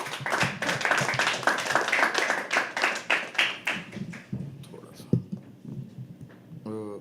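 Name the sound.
audience applause at poetry open mic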